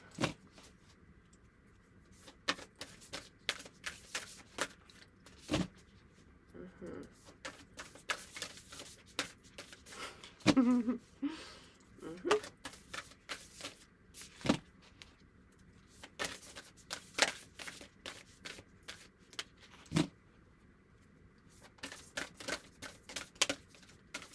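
A new tarot deck being shuffled, the stiff, sometimes sticky cards giving sharp, scattered clicks and riffles in irregular bursts across the whole stretch, fairly close and alone with no talking.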